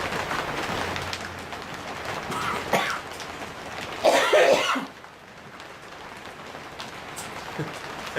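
A man coughs a few times while smoking a pipe of Trout Stream tobacco, rough hacking bursts close to the listener over a faint crackling background, with one louder fit in the middle.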